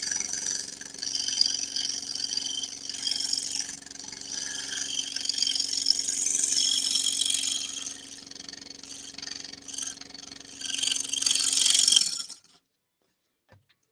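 Scroll saw cutting a wooden Groot pattern: a steady buzzing, rasping saw sound runs close and continuous for about twelve seconds, swelling near the end before cutting off into silence.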